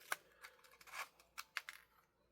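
Small first aid kit scissors snip at a bit of material, several quiet, crisp clicks and cuts spaced irregularly, close to the listener.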